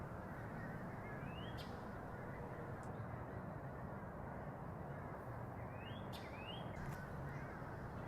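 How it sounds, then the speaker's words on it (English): Crows fly over at sunrise, cawing in a few scattered bursts that sound fairly distant and faint above a steady, low background hiss. "So this was the first wave of crows at about 7:10 maybe."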